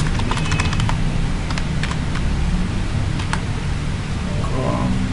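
Quick clicking of keys on a computer keyboard, bursts of typing over a steady hiss, close and fairly quiet.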